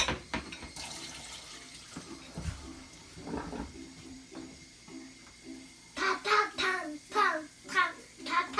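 Tap water runs and splashes as children wash dishes at a home sink, with clinks of dishes and handling; children's voices chatter intermittently over the water.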